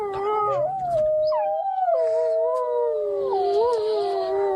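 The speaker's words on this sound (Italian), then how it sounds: "L'ululato sale nella notte" Wolves howl at night, long wavering cries rising and falling, with one howl soon joined by another, overlapping in a drawn-out chorus that carries clearly without any talk.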